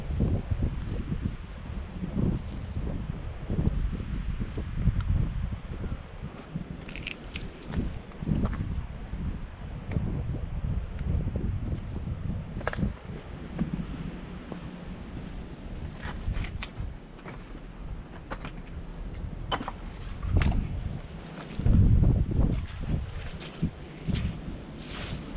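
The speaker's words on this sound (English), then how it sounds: "We are in a wind advisory today, as usual." Wind blowing hard at a rural cemetery during a wind advisory, a continuous rough buffeting rush with gusts that swell and fade, close to the microphone.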